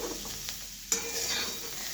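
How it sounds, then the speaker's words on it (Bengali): Cauliflower greens frying in a pan, a steady close sizzle with scraping stirs and one sharp clink of the spatula against the pan, no talk. "এটা শাকটা প্রায় ভাজা ভাজা হয়ে এসছে"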